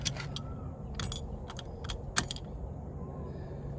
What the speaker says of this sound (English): So you can put up to 5 keys into this lockbox.